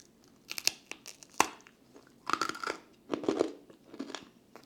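Sharp, close crunches and crackling snaps come in bursts as a thin, hard, dry Finnish cracker is bitten and chewed.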